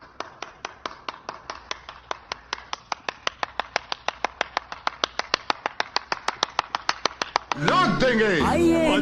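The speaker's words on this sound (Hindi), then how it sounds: "भाई के लिए तालियां रुकनी नहीं" Steady, evenly spaced claps ring out for a maker whose homemade motor-driven sieve is being cheered, a long run of sharp single beats before a voice cuts in near the end.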